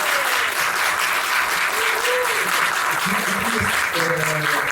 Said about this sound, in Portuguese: Queria até pedir uma salva de palmas para ela.